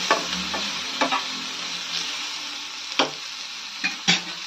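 Cumin seeds frying in hot oil in a pan for a tomato and fenugreek leaf curry, a steady crackling sizzle broken by a few sharp stirring clinks and scrapes, close and alone.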